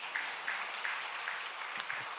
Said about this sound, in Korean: 목사님 위해서 박수.